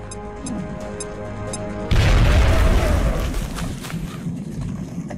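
A frag grenade goes off in the video game XCOM: a sudden, loud, close boom with a heavy low rumble that decays over a couple of seconds after a quieter electronic tone.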